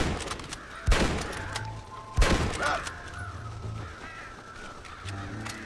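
Crows cawing in the Western video game Red Dead Redemption, harsh calls repeating through the clip with two loud thumping gunshots standing out above them.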